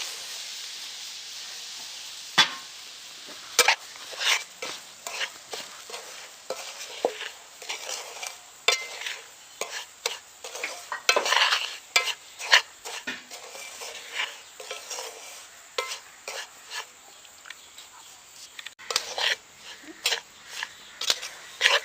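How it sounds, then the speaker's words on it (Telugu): Semolina roasting in ghee with cashews and raisins, stirred continuously in a pan: a dense run of close, rhythmic scraping strokes with light metallic clicks over a soft underlying hiss. "దాంట్లో కొంచెం నెయ్యి వేసుకుని రవ్వ వేసుకోవాలండి"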